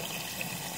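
Tap water runs steadily into a sink after a slow drain has been cleared, a soft continuous flow with no voices.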